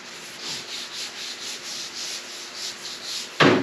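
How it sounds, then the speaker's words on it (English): A scratchy pad rubbed back and forth over PVC for a skiff build, making rhythmic abrasive strokes, about a dozen in even succession, close and moderately loud. "So I'm going to go at this PVC with this scratchy pad."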